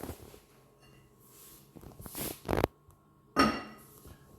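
A lid placed on a sauerkraut fermentation crock, a short ceramic knock and scrape followed moments later by a second clinking contact, close and fairly soft.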